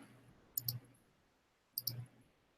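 Computer mouse clicking during JavaScript coding work, two separate quick double clicks about a second apart, close and crisp against a quiet background.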